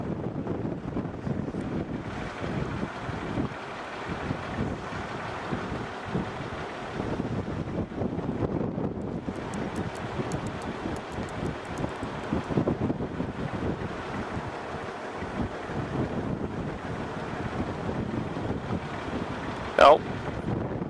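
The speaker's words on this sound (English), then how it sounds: "very windy here at the moment" Strong gusting wind in the Australian outback buffets the microphone with steady broadband roar and rumble throughout, with a brief sharp knock near the end.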